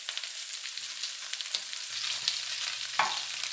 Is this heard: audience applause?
no